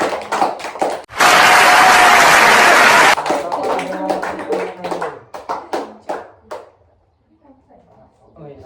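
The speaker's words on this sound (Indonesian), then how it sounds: "Beri tepuk tangan." Classroom applause, with scattered taps and claps, then a loud burst of dense clapping for about two seconds, followed by uneven individual claps and voices that trail off into quiet.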